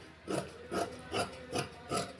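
Scissors cut through fabric for a size 43 blouse. Five evenly spaced, close rasping snips are heard with no talking.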